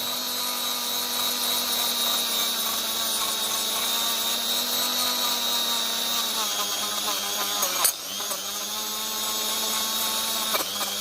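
Power tool driving a soft polishing wheel against a part of a 1950 Lucas D3A4 distributor from a Ferguson, giving a steady, loud whine with a strong high hum that holds for about eight seconds, then a brief scuff and dip as contact shifts before the tone resumes.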